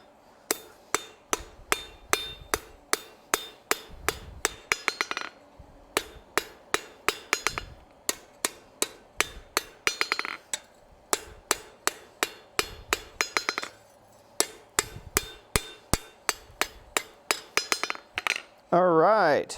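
Hammer blows ring out on hot steel being forged into a decorative hacksaw at an anvil, sharp metallic strikes in quick rhythmic bursts with brief pauses between runs, close and loud, ending with a short sweeping sound.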